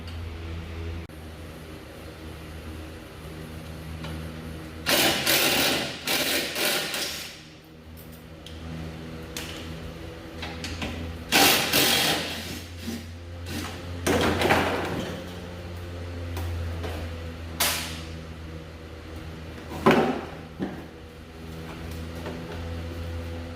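A power tool spins out 10mm bolts from a crashed Chevrolet Trailblazer's front bumper cover in several short whirring bursts, with clanks and handling noises between them over a steady low hum.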